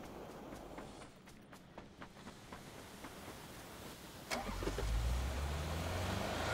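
A car engine starts up in a video game, its low rumble kicking in about two-thirds of the way through and continuing loudly over the steady game background.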